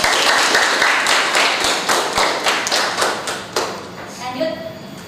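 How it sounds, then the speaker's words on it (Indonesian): Classroom applause for a student's conclusion during a biology lesson, a dense run of many hands clapping steadily at close range, tapering off toward the end. "Beri tepuk tangan buat Devi."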